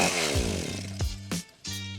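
Weed whacker engine sputtering in uneven bursts, loud and close, dropping out and catching again several times in two seconds; the machine is dying out with a suspected bad spark plug.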